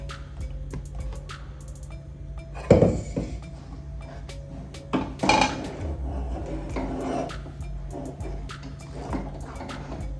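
Ground coconut paste poured and scraped into a cooking pot, with soft scraping, rubbing and a couple of sharper clinks of a spoon against the vessel over a steady low kitchen background.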